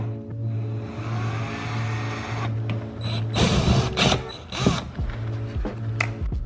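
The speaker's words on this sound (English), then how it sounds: "So now you remove those 3 screws." Ratchet loosening screws on an Audi A4 bumper diffuser during a quad-tip diffuser build, with mechanical clicking and rattling bursts in the middle over a steady, pulsing background hum.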